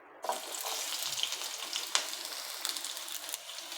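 Onion dropped into hot oil in a pan for a dhaba-style egg curry, a sudden loud sizzle bursting in and then holding as a steady, dense frying hiss with a few crackles.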